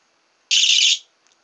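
A cheap continuity tester gives a single steady high-pitched electronic beep lasting about half a second, followed by a faint brief blip.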